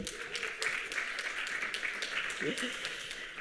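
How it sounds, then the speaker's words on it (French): Scattered applause from a conference audience at an international colloquium in a hall, a steady patter of hands with a brief voice near the end. "Angélique, une nouvelle salve d'applaudissements vous accompagne."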